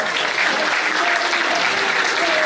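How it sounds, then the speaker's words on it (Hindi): Audience at a student merit award ceremony bursts into loud, dense applause, a steady wash of many clapping hands sustained throughout with no pause. "आप लोग सभी मेधावी मित्रों के लिए एक जोरदार ताली बजा सकते हैं।"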